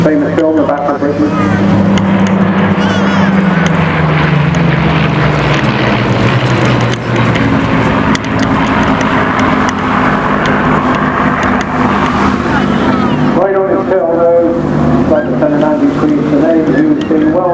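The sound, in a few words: Spitfire aircraft flying in an air display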